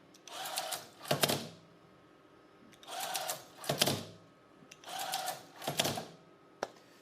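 A linear slide with high-quality bearings runs back and forth, driven by an 1150 RPM motor on a single-strung system: three repeating cycles of rattling, clacking travel, each ending in a sharp knock, separated by brief near-silence.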